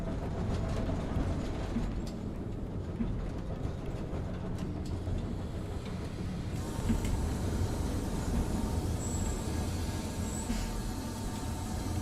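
A phantom train rolls past unseen on empty tracks at night in Pathologic 2, a steady low rumble and rattle holding for about twelve seconds with no voices over it.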